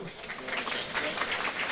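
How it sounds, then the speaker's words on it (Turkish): A crowd at a traditional Turkish oil wrestling tournament in Balıkesir applauds in honour of an official. The clapping is faint, distant and steady, with a loudspeaker voice and open-air crowd noise over it. "kocaman bir alkış"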